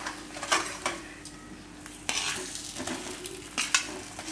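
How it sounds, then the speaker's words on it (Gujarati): Spoon stirring potatoes with sesame in a pan for a Gujarati potato dish, soft scraping and light clinks against the pan over a faint sizzle, close and quiet, no voices. "મિક્સ કરી દેવું બટેટાને."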